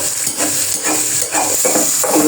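A dal mixture fried and stirred in a pan, steady close sizzling with soft scraping strokes of the stirring spoon throughout, no voices.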